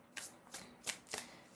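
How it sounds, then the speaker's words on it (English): Tarot cards being shuffled, four quick riffling bursts, close and fairly quiet, with no talking. "So I'm shuffling your tarot cards."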